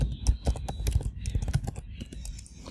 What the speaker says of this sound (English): type in npm install